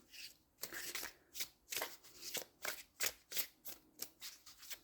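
Playing cards from a seed and sickle deck shuffled in a rapid run of about a dozen crisp riffling bursts, close and fairly faint, with no talking.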